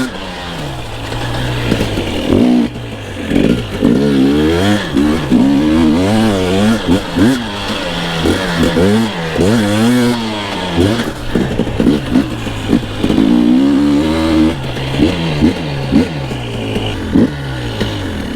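A new two-stroke dirt bike engine revs loud and close while riding, its buzzing pitch climbing and dropping repeatedly through gear changes, with voices speaking briefly over it.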